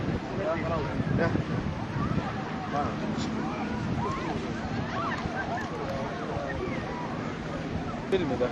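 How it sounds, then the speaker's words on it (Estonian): Strong outdoor wind buffets the microphone throughout, a steady rough roar with gusty swells, recorded at an island marathon on Aegna. "Tekitame tugeva tuule mulje."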